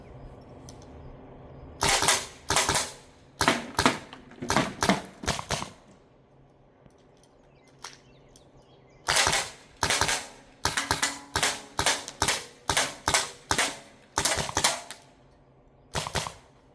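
A CO2-powered less-lethal launcher fires two rapid strings of sharp, snappy shots with a pause between them, each crack close and loud against a quiet background.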